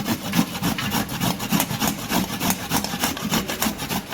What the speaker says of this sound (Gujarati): હવે આપણે આ કોપરાને છીણી લઈશું